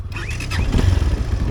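A Tekken 250 motorcycle being ridden, a brief close engine drone with a rising whine at the start, blended with wind and road rumble.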